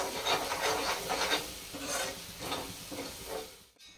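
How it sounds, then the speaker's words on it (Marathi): Masala sautéed in oil in a pan for a spicy Bangda (mackerel) curry, stirred continuously with rhythmic scraping and rasping strokes over a sizzling hiss, loud and close, with no talk. "हे मसाला आता परतून घेऊया आपण चांगला तेल सुटेपर्यंत।"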